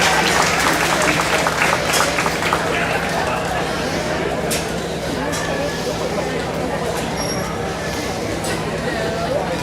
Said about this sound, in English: Give those young people a good round of applause.